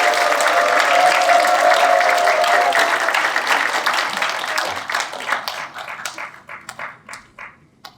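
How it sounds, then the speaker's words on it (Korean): A large audience at a memorial academic concert applauds to welcome a keynote speaker: dense sustained clapping that thins into scattered individual claps before fading out. "구신서 이사장님을 큰 박수로 모시겠습니다."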